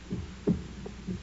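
A muffled heartbeat sound effect in an old-time radio drama, with a few low, dull thumps that beat irregularly over a soft hum.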